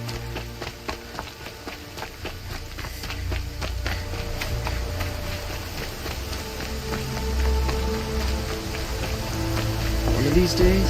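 Rain in the video game Horizon Zero Dawn, a dense, steady patter of drops on surfaces with rhythmic tapping and a low rumble building toward the end.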